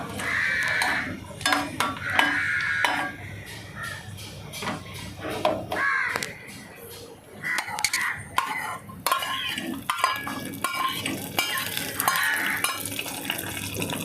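A spoon stirs hot ghee tempering into pazham kanji, fermented rice porridge, with wet scraping and clinks against the vessel. Crows caw in the background and a voice is heard now and then.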